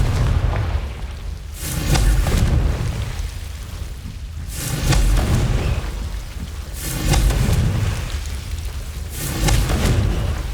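Confringo fire spells blast repeatedly in the Hogwarts Legacy video game, four loud booming explosions landing at a steady rhythm, each with a rumbling roar and crackling tail over continuous low game ambience.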